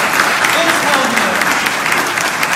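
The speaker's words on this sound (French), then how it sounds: "moi j'aimerais qu'on applaudisse Sainte Marie-Madeleine" A congregation in a church applauds, a thick, loud wash of many hands clapping together that carries on steadily and reverberates through the room.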